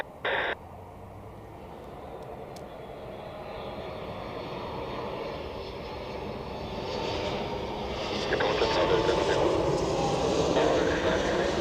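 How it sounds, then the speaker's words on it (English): A Corendon Boeing 737 MAX arrives at Zurich Airport, its jet engine roar building gradually from a distance and growing louder toward the end, after a brief, sharp tone at the start. "next is a Corendon, Boeing 737 MAX from Antalya as well,"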